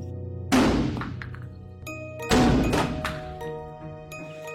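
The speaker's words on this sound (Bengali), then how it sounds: "কারোর বাড়িতে গভীর রাতে ইট পড়তে থাকে দুমদাম করে" Bricks crashing down onto houses late at night, heard as two heavy, booming thuds a couple of seconds apart, each loud and close with a long ringing decay and no voices.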